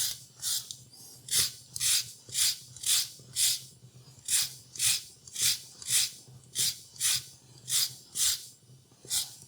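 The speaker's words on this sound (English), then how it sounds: "So I'm just going to zest this lime up." A lime is rubbed against a zester in quick, even strokes, producing a steady series of short, close scraping rasps in a rhythmic pattern for garnishing peanut chicken with rice.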